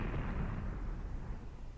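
Artillery fire rumbles in the war game Graviteam Tactics, a dense, heavy low roar of distant blasts rolling and fading over a couple of seconds, with no voices.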